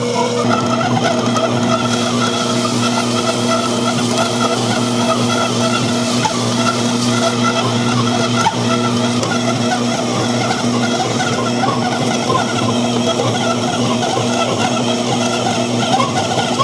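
An Aldi Ambiano stand mixer's motor drones steadily and loudly throughout, a constant whirring hum with a slightly strained, labouring tone as it kneads dough.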